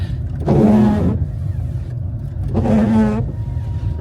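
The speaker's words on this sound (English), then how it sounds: "Engine sounds nice and smooth. As smooth as a 3-cylinder can anyway." A three-cylinder car engine idles with a steady low hum, close by, while two short swishing bursts of the windscreen washers pass over it.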